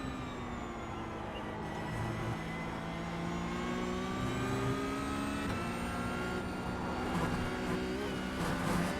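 A Porsche Cup race car in iRacing, on the Oran Park circuit, drones at steady high revs with a rising engine whine and brief gear-change dips, loud and continuous with no talk.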